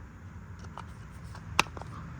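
A Hyundai Sonata Hybrid 2.0L oil filter housing snapping into place: one sharp, brief click over a quiet background of faint handling noises.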